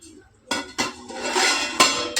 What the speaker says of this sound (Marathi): आता आपण झाकण उघडून बघूयात